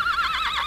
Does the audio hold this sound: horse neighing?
yes